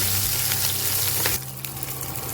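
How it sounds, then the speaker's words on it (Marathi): Stuffed mirchi filling sizzling as it is sautéed in a pan for a Maharashtrian stuffed chilli dish, a steady loud frying hiss that drops to a quieter sizzle partway through, close and without talk. "त्याला आता परतून घेऊयात."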